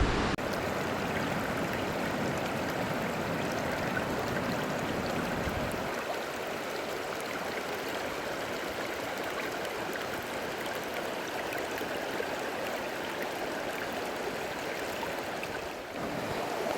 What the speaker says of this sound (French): j'espère que vous m'entendez bien malgré le bruit du ruisseau